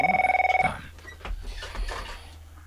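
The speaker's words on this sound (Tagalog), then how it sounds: "Nagring manan ti telepono." A telephone rings with a rapid trilling bell burst at the start, then cuts off, followed by faint rustling and handling noises.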